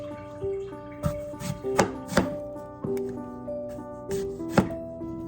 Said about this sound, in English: So first, I'm chopping the apples